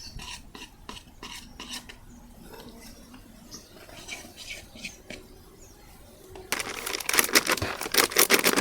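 Besan (gram flour) dough for shev is mixed by hand in a bowl, making soft rhythmic squelching and scraping, quiet at first and then louder and busier toward the end.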